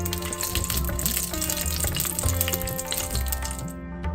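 Cinnamon sticks and cardamom pods drop into hot ghee in a pan for chicken biryani, giving a loud, steady hiss and crackle that runs unbroken and close throughout, with no talking.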